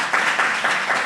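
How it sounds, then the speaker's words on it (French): Audience applause at a French panel on dentists and social media, a short burst of clapping from a seated crowd, moderately loud and alone for about a second. "Merci, docteur Toupnet, on peut l'applaudir."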